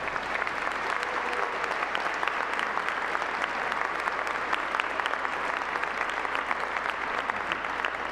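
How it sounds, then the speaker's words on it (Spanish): A congregation at Mass gives seminary members a strong round of applause, a sustained, full crowd clapping that stays loud and even for about eight seconds with no voices standing out. "Les damos un fuerte aplauso."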